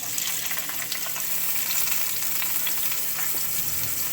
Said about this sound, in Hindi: अब जीरा थोड़ा सा क्रैकल करने लग गया है, अब इसमें हम अनियन डाल देंगे।